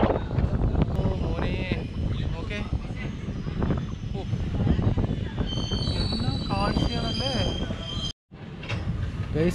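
A railway ballast-laying machine works on the track at Bhagavathipuram station in Kerala, giving a loud, steady mechanical rumble with metallic squeals, close by. People talk over it, and there is a brief cut near the end.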